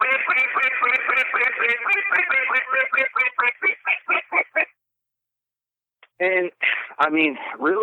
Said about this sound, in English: you hit them with a little comeback call.